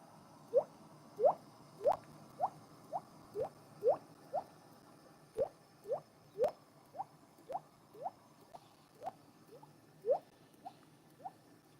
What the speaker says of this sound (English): There's the fire drip.